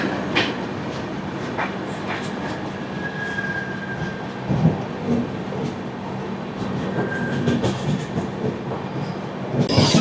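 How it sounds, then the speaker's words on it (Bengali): The Bikaner–Sealdah AC Duronto Express, heading in from the Asansol Junction direction, rolls past close by with steady clickety-clack of wheels over rail joints, a sustained rumble and brief wheel squeals, no voices. "আসানসোল জংশনের দিক থেকে ছুটে আসছে ট্রেন নাম্বার 122 বিকানির থেকে শিয়ালদা"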